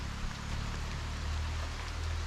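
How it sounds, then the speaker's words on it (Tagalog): Heavy rain with large drops falls as a steady, dense hiss of wash, with a low engine-like rumble beneath and no voices. "malalaki pa ang patak ng ulan"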